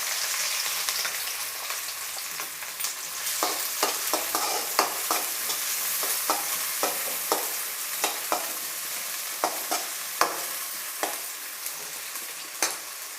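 Chopped onions frying in a pan for veg fried rice, a continuous bright sizzle broken by regular scraping stirs of a spatula, close by and without any talk.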